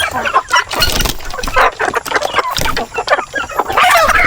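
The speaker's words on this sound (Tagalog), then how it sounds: "Mga darag mga kaparmers, oh. Darag native chicken." Darag native chickens cluck and squawk loudly close by on a Philippine farm, a busy overlapping flock chorus with a short crow-like call mixed in.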